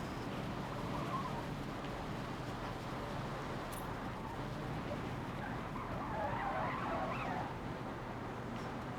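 Race car sliding at around 200 mph in Forza Motorsport 7, a continuous roar of engine and tire skid with rising squeal in the middle, steady and loud.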